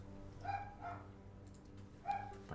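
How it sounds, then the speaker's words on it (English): Dogs in the Shadowrun: Hong Kong video game let out three faint barks, one pair close together and a third after a pause, over a low background hum. "It's like they're programmed to bark when I'm there."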